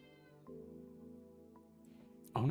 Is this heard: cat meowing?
yes